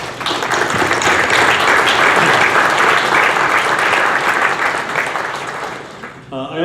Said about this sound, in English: So let's give a round of applause to all of those.